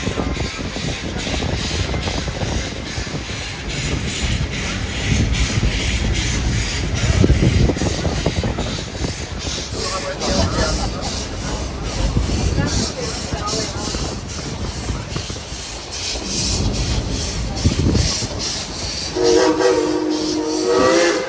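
The Dollywood Express steam train chugs steadily for a long stretch, close and loud, with a horn sounding near the end and faint voices underneath.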